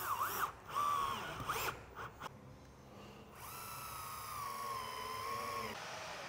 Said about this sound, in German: Schrauben wir das fest.